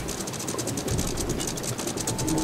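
A ship's anchor winch being cranked up in the Sea of Thieves video game, a steady, loud ratcheting clatter of gears and pawl repeating evenly throughout.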